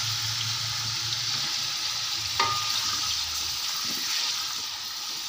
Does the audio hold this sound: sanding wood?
no